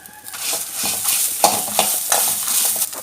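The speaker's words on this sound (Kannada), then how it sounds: "ಒಂಚೂರು ಕಾಲು ನೀರುಳ್ಳಿ ಮಕ್ಕೊಂತೆ ಕರಿಬೇಪಾಡ್ದು ಅವೆಲ್ಲ ಫ್ರೈ ಮಾಡ್ಬೇಕು." Onion and curry leaves frying and being stirred in a pan for a fish curry, a steady close sizzle broken by repeated scraping stirs, with no voices.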